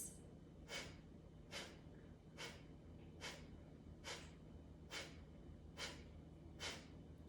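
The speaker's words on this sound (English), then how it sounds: "Through the nose, 8 sniffs." Eight quick, sharp sniffs in through the nose during a breathing exercise, evenly spaced and close, faint against a quiet low hum.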